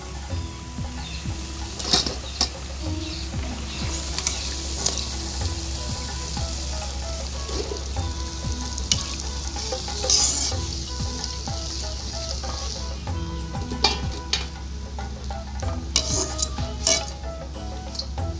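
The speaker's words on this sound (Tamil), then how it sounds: "கோதுமை போண்டா எல்லாம் சுட்டாச்சு" Crispy wheat bonda balls fry in hot oil, giving a continuous bubbling sizzle with scattered clicks and pops. A low steady hum from the kitchen runs underneath, and a few utensil taps stand out from the frying.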